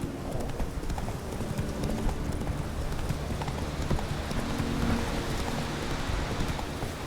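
Roach the horse gallops in The Witcher III, a fast continuous drum of hooves up close, with rushing wind or rain around it and no voices.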